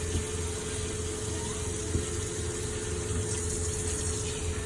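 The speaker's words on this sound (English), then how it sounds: "So the tank pump is on." The water tank pump of a 2019 Thor Freedom Elite 22FE motorhome runs with a steady, even hum and a faint watery rush. The sound is continuous and unbroken, with no talk over it.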